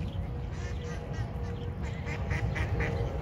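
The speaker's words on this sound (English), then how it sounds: "can we feed the ducks?" Ducks quacking at a pond in Washington DC, a run of repeated nasal calls that grow more distinct toward the end, heard over steady outdoor background noise with no speech.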